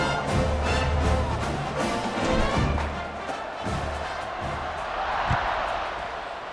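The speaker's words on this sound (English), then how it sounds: "this crowd is buzzing after that last score" Stadium crowd in the EA Sports College Football 26 video game buzzes as a broad, steady roar with a few thumps, continuous and fairly loud.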